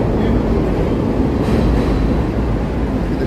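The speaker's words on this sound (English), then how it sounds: "here comes another L train pulling into the station here" A Chicago L elevated train pulls into a station in the Loop along Wabash, a loud, steady rumble of rail wheels and traction that stays constant throughout, heard from street level nearby.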